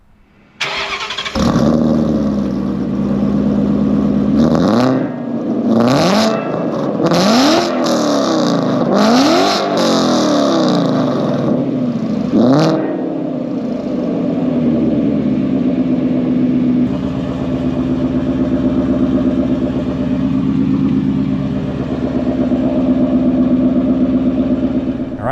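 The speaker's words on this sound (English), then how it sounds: "Let's give you a nice exhaust shot as we start the motor." A 2017 Ford Mustang GT V8 fires up loud and close at the exhaust, barks through several sharp revs, then drops to a deep, steady burbling idle.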